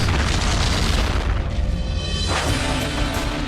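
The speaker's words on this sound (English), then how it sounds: "he gave it the final stir it needed to properly mix and detonate" Homemade card bomb detonating, a heavy low boom with rumbling debris that trails off, followed by a second sharper burst about two seconds later.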